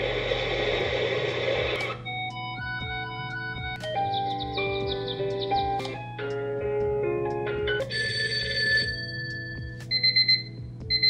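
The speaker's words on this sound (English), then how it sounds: "both devices feature the option to choose from different alarm sounds" Alarm tone from a Dekala Arkenstone or Sunstone ambient smart light, a bright electronic chime melody of sustained and stepping tones with short repeated beeps near the end, steady and close with no talking.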